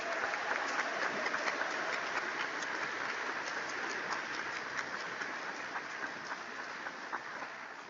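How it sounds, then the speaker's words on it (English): Distant, fairly faint applause from a concert audience at an honors band performance, steady clapping that slowly tapers without any talk over it. "Let's give them another round of applause."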